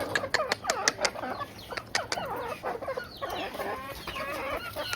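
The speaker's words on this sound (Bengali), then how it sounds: "এখন এগুলো মুরগিকে দিব খাইতে" Chickens cluck busily and close up while pecking at feed of rice bran mixed by hand, a steady run of overlapping clucks with occasional sharper calls and no talk.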